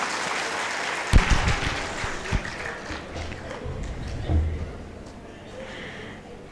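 An audience at a Brahma Kumaris spiritual class applauds, a moderate wash of clapping with a few louder claps standing out, while someone talks through it.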